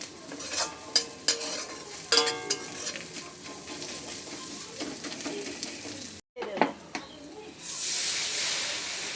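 Crushed ginger and garlic fry in a hot pan with a spiky sizzle as a spatula stirs and scrapes. Sharp clatters come early, there is a brief pause, then a louder, steadier hiss of frying.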